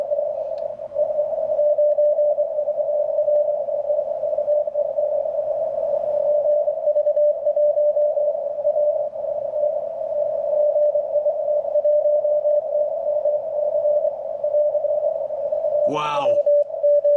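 Morse code CW signal from a Singapore station on the 40-meter band, a steady single-pitch tone holding through the whole stretch amid faint hiss, with a brief sweeping chirp near the end.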